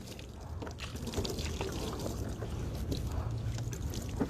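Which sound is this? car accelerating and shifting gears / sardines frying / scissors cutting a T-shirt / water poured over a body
water poured over a body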